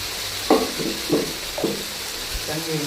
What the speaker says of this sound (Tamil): சாம்பார் போட்டு ஒரு வதக்கு வதக்கிட்டு